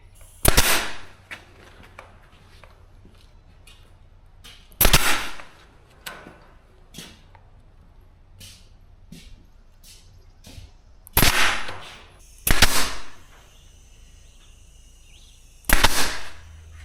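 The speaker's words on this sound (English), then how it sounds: "Sometimes I shoot 100 staples in one shot though" A staple gun firing staples into wire while a rabbit tractor is built, five sharp, loud snapping shots spaced several seconds apart, with faint handling clicks in between.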